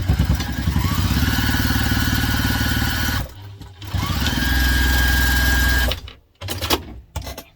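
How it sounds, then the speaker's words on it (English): A sewing machine runs loud and close at top-stitch length for a bag seam, two sustained whirring bursts separated by a short pause, ending with a few handling clunks and no talk. "now I'm going to take that to the machine and we're going to top stitch back up to top stitch length"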